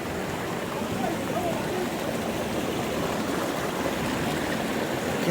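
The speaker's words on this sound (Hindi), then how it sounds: "क्या प्यारी आवाज है पानी की" Cold water from a waterfall stream rushes at a picnic spot in Abha, a steady, full broadband roar that carries through the whole stretch with no break.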